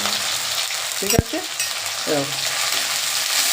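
Crushed garlic and onion frying in oil for a spinach stew with mustard and poppy seed, a close, steady sizzle with a sharp clack of a utensil partway through and a brief spoken word.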